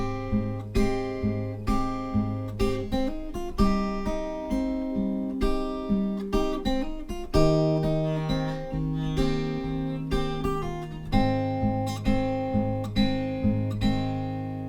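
A guitar plays the lick from a song, ending on the open second string, with steady rhythmic plucked notes and chords over a sustained low bass, moderately quiet and alone with no talking.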